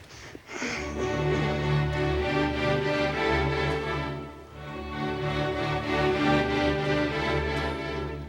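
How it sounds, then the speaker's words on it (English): An orchestra plays the three-note ascending accompaniment vamp at the opening of the first movement of Sibelius's Second Symphony, a soft, steady pulsing string figure repeating in a continuous, even flow. "this clue of 3 notes is planted immediately at the beginning of the first movement as an accompaniment idea, sort of a vamp till ready"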